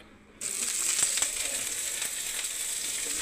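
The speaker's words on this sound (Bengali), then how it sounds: "এবার আমি বেগুনটা ছেড়ে দেবো বন্ধুরা।" Eggplant slices dropped into hot oil in a wok burst into a sudden loud sizzle after a moment of quiet, then hold a dense, steady hiss with a few sharper crackles.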